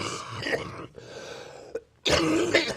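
A man coughs and clears his throat several times at close range, with rough bursts separated by short pauses, during a live election night results broadcast.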